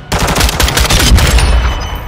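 Loud automatic gunfire bursts from the video game Modern Warfare 2, rapid shots packed densely across the whole moment with heavy low-end thump and no talk over it.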